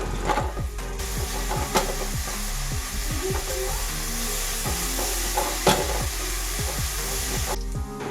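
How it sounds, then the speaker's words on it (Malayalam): Onions with salt are sautéed in a pan until golden for a crab roast. Rhythmic scraping strokes of a spatula repeat over a loud, steady frying hiss, with no one speaking. "നല്ലതുപോലെ ഗോൾഡൻ കളർ ആവണ വരെ വഴറ്റിയെടുക്കുക."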